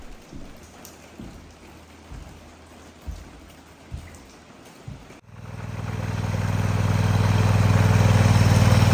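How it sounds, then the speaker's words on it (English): Rain patters steadily with occasional heavier thuds, then a loud motor starts up and drones over it for the rest of the clip. "nobody expected the rain, so it's pouring inside"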